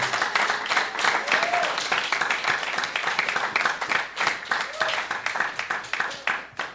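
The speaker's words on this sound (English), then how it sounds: "Clap it up for the Most High God." A church congregation claps in a lively, uneven patter, loud and close, with scattered voices and an occasional shout rising over the hands before it thins out at the end.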